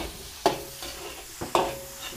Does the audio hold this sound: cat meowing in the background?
no